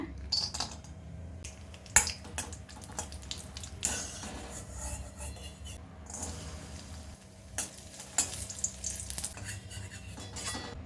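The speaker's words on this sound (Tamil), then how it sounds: "இந்த நெய்யில் முந்திரி பருப்பு கிஸ்மிஸையும் வறுத்து எடுத்துக்கலாங்க." Cashews and raisins frying in ghee in a kadai, with an ongoing soft sizzle and frequent clicking, scraping stirs and small pops across the whole span.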